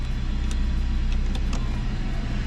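A power sunroof opens in a JDM van with a close, steady electric motor whir and faint clicks, running continuously under a low vehicle hum.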